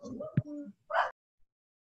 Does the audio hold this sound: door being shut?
no